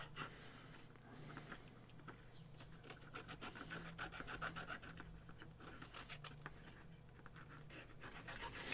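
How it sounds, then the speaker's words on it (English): Steady rasping and rubbing of a file worked back and forth across wood, continuous strokes close up with no talking. "Let's go in with a file."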